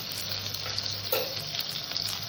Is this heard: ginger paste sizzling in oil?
yes